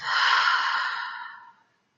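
One slow, airy exhale through the mouth during a guided meditation, close and soft, fading out over about a second and a half into silence.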